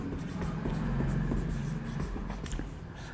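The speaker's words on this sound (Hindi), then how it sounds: "अब हम लोग इसका परिभाषा लिखते हैं।" Writing on a board during a Class 12 chemistry lesson, a run of close, short scratching and tapping strokes over a low hum of the room.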